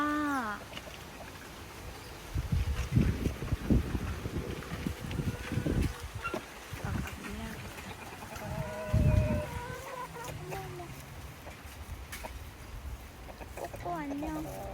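Chickens cluck and call on a farm visit in Byron Bay, with several short bursts rising among steady outdoor noise while people chat nearby.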